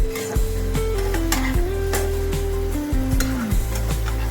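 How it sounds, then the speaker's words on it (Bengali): Chopped onions fry in hot oil in a pan as they brown for a shrimp and pointed gourd curry. A steady, close sizzle runs throughout, with stirring scrapes and a few low tonal hums underneath. "সেগুলো এখন দিয়ে দেবো পেঁয়াজগুলোকে একটু লাল করে ভেজে নিতে হবে"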